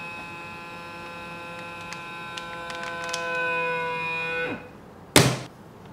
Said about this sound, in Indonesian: Vacuum and seal.